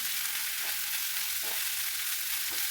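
Onions with ginger garlic paste fry in a pan in a morning home kitchen, making a soft, continuous hiss with occasional faint scrapes of stirring and no talking.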